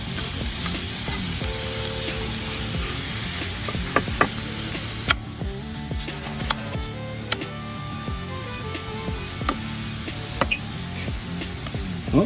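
Steak grilled directly on top of hot charcoal sizzles in a steady, loud crackling hiss, with sharp pops and ticks scattered through it and no talking.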